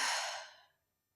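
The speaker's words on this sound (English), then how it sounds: "Now take a deep breath in. Let it all go." A single deep exhale, close and breathy, fading out over about a second at a light, relaxed team-building exercise.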